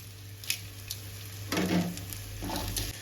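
Onions with ginger garlic paste sizzle softly in a pan, a low steady frying hiss that swells with a couple of stirring passes near the end.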